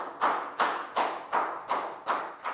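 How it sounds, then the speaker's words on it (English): A primary-school class applauds a pupil in an English lesson: about seven evenly spaced, crisp claps at a slow, steady beat, close and moderately loud with no talking. "Big round of applause for Pat,"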